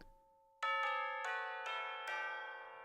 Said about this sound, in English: Oh, I hear the tubular bells.